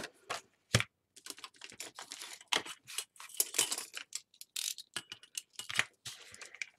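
Scissors snip through a paper flap on a Halloween album page, a run of quick, close crisp cuts and rustles with short pauses between them.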